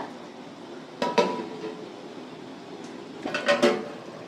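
A metal lid is set onto a cooking pot of simmering chicken, giving two close clattering clanks a couple of seconds apart over a quiet background.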